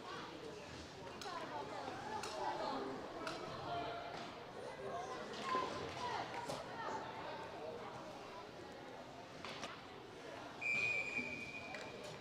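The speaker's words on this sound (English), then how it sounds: "And he'll cover for a whistle." A short, shrill referee whistle blast sounds near the end, over a steady wash of arena crowd noise at an ice hockey game.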